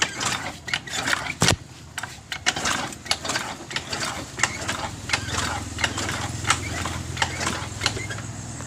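A motorcycle that was flooded is kick-started repeatedly to expel leftover water from the engine, giving a series of rhythmic mechanical thumps and clanks with short sputtering bursts, close and fairly loud.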